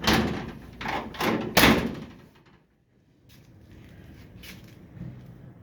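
A 1937 Dodge car door is worked shut and open, with several loud close metallic clunks and a hard slam, then a pause before softer latch clicks.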